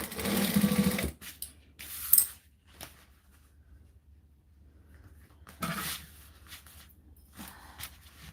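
A sewing machine tacks the bottom edge of a piece being made in multiples, running in a loud burst at the start, then short bursts with quiet gaps and a final stretch of stitching.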